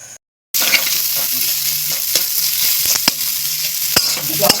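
Potato curry for chop filling fries in a pan, giving a loud, steady sizzle with repeated scraping stirs close by after a brief moment of silence at the start.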